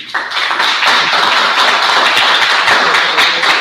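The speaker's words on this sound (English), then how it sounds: "let's give him a big round of applause" Steady audience applause fills a Rotary club meeting hall after a guest speaker's talk, loud and continuous from start to finish with dense overlapping claps and no voices.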